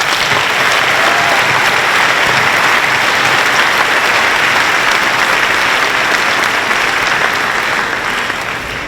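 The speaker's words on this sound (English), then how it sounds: "let's give him a round of applause." Loud, sustained applause from a large audience, steady and dense throughout, easing slightly toward the end.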